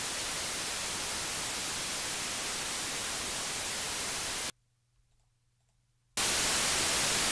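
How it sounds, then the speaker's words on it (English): Synthesized white noise for an electronic music sweep, a loud steady hiss that cuts to near silence with a faint hum, then returns at full level. "So there we have our noise yet again"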